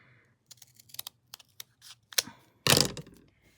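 Scissors cutting ribbon for homemade Bible tabs, a string of small clicks and snips ending in one louder crisp cut, close up with no talking.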